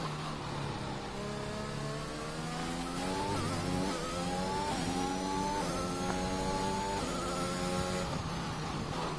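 A racing car engine in a Bahrain race within a racing video game revs up through the gears, its whining pitch climbing and dropping repeatedly in a steady, continuous drone.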